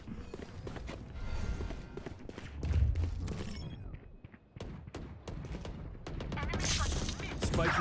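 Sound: gunfire in the video game Valorant

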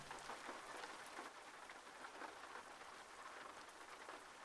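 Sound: rain in video game Euro Truck Simulator 2

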